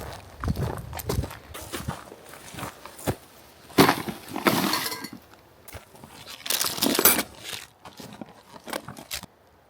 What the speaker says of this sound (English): So I have no idea what to expect with this emergency tent. I'm opening it for the first time right now.